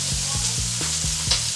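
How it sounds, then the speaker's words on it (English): Bacon strips frying in a pan for bacon-wrapped jalapeño poppers give a steady close sizzle and crackle, with several repeated low thumps and scrapes from stirring or handling throughout. "hear that bacon sizzle"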